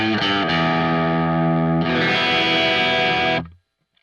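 Electric guitar played through a Marshall amp simulation plugin and API EQ, loud distorted chords ringing out, with a change of chord midway and a clean stop near the end.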